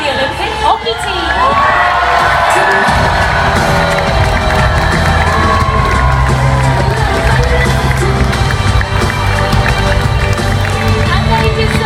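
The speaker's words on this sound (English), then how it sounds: "they deserve every decibel of that cheer." Loud parade crowd in Manchester cheering the Olympic hockey team, continuous roaring cheers, whoops and shouts with some clapping, dense and sustained throughout.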